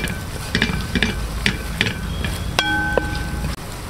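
Masala stirs and sizzles in a hot pan on a home stove, a steady fry broken by regular scraping strokes of a spoon, close and fairly loud with no talking.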